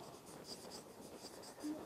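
Marker or chalk writing on a board scratches in a quick, steady series of faint strokes during a math lesson, with no talk over it.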